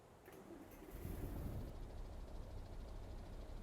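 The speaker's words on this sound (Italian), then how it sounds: "Direi molto poderoso l'avvio del motore." In the video game Euro Truck Simulator 2, a heavy diesel engine of a Mercedes-Benz SK truck cranks and roars to life, then settles into a deep, steady rumbling idle.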